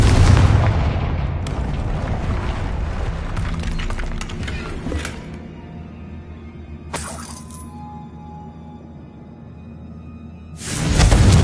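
Confringo fire spell explosions in the Hogwarts Legacy video game, a loud burst at the start with crackling debris, a sharper crack midway, and another loud blast near the end, separated by quieter rumbling ambience.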